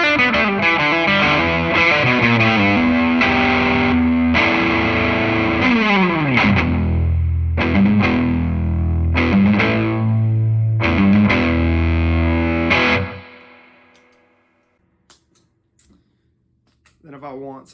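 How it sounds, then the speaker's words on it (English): An electric guitar played through a Walrus Audio 385 pedal gives a thick, fuzzy distortion, with sustained chords changing every second or so for about thirteen seconds before the sound cuts out, leaving faint clicks and near silence. "I'll turn the Walrus 385 on before that for a kind of fuzzy distortion"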